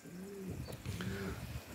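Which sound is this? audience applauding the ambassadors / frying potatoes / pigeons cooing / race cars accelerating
pigeons cooing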